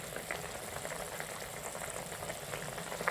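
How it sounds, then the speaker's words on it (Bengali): Ridge gourd simmering in water in a covered pan, a steady soft bubbling and gentle popping that continues evenly throughout, fairly quiet and close, with no talking. "জল দিয়ে একটু চাপা দিয়ে ফুটতে দেব।"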